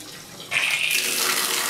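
Hot water gushes from a tap into a bathtub, beginning as a softer trickle and then surging abruptly into a loud, steady hissing stream that continues to the end.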